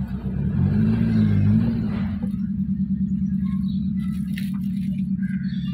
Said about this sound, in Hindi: चलो अभी गाड़ी बाहर लेके चलते हैं